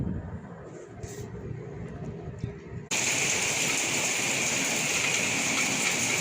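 Heavy April rain falling in Bhavnagar, Gujarat: a quieter, mixed background gives way about halfway through to a sudden, loud, dense and steady rushing hiss that continues unbroken to the end.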